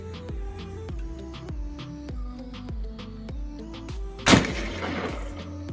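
An agricultural sound cannon used to scare off wild animals fires one loud sharp blast near the end, following a series of regular mechanical clicks and tones as it is charged.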